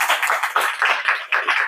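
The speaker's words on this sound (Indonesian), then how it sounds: "tepuk tangan sekali lagi untuk Cutnya Din." A group claps in quick rhythmic bursts, steady and fairly close, with no talking over it, during a classroom presentation.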